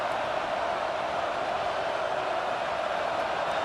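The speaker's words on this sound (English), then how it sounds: "Decibels rising as the crowd gets behind this defense on 3rd down." Stadium crowd roar from College Football 25 during an Alabama vs Tennessee game, a steady, dense wall of cheering noise rising on a third-down defensive stand, with no voices distinguishable.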